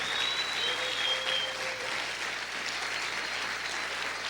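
A church congregation applauding the Lord during a service, with steady, sustained clapping from a large crowd that fills the space evenly the whole time, and faint whistle-like tones over it.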